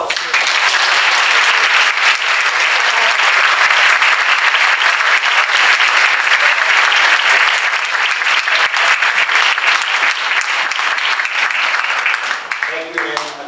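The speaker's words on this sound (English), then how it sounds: "A round of applause." A crowd applauds loudly and steadily for about thirteen seconds at a Suncoast Tiger Bay club event featuring two guests; the clapping thins at the very end as a voice briefly begins.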